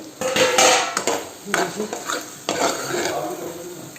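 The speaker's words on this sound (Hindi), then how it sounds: "बस इसको ऐसे ही करके भून भान के ढक के रख देंगे कुछ टाइम के लिए" Bottle gourd curry is stirred and fried in a pan with a metal spoon, giving repeated scraping clatters against the pan over a steady sizzle. The sounds are close and loud, with no talking.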